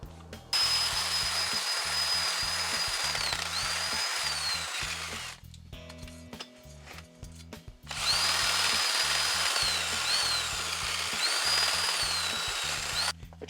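An electric drill spins a wire wheel against a small engine's cylinder head and piston to scrape off carbon, a loud steady whine broken by a short pause before the grinding resumes.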